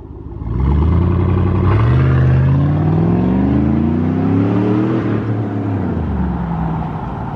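A 2010 Cadillac Escalade with its muffler deleted roars past up close, its raw, unmuffled exhaust rising in pitch through the gears before easing off.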